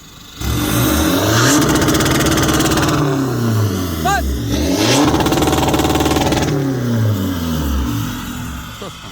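A lowered pickup truck engine revs up in repeated loud bursts, and a double-clutch rev limiter chops each peak. A person talks over the roaring engine, close by.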